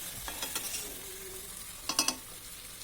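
Diced jackfruit being sautéed in a pan for a Bengali prawn curry, with a soft sizzle under a few clattering stirs of a spatula, two brief bursts of scraping against the pan.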